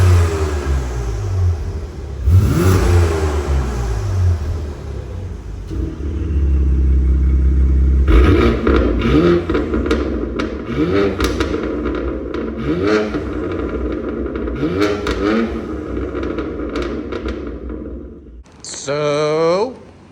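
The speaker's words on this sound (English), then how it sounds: "show you guys how it sounds as far as open valves and closed valves from behind of the car" A BMW S58 exhaust is revved repeatedly from behind the car with valves open and closed, several sharp rising roars and a deep idle rumble, with people talking briefly between revs.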